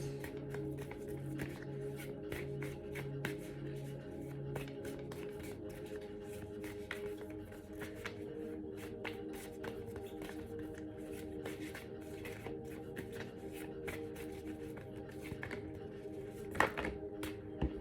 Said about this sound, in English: when I'm shuffling also is when I sort of get like what I'm meant to hear